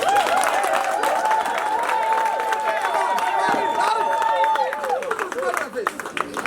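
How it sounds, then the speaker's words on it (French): Family guests clap at a graduation party in New Jersey, the applause running under a steady tone and overlapping chatter, then thinning out toward the end. "applaudissez pour lui."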